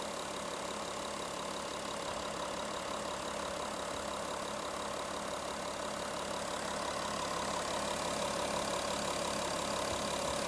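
A Volkswagen Touareg engine idles steadily with an even, continuous mechanical hum and faint ticking, close and unbroken throughout with no talk over it.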